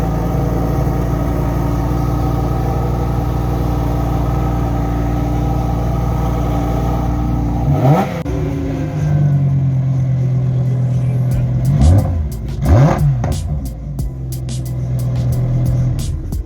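A 1998 Jaguar XK180 concept car's engine runs with a steady low rumble, then a couple of sharp revs that rise and fall, close and fairly loud.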